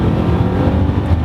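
A project car's engine pulls hard in first gear, a loud, steady low-pitched roar close by with no talking over it.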